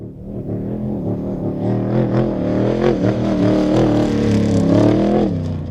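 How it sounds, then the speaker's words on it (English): A Ford Ranger truck engine revs hard and steadily, its pitch rising and falling as the throttle is repeatedly worked; loud and close throughout. "You can hear him modulating the throttle a lot on that last pass."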